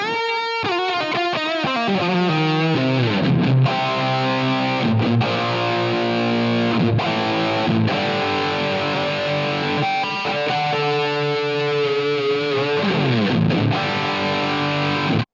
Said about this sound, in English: next we go to the main overdriven lead guitar sound that I use for most of the concert.